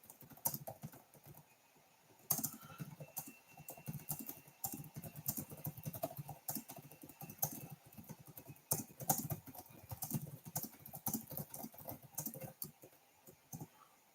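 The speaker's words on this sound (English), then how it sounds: "I'm actually going to type in a message here." Fast typing on a computer keyboard while writing a chat message during a live stream, a steady patter of soft close key clicks with irregular bursts and short pauses, quiet and alone.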